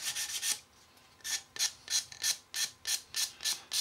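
A sanding stick rubbing over cured CA filler on a scale model, with a quick burst of strokes, a pause, then a steady run of rhythmic back-and-forth rasps, close and alone.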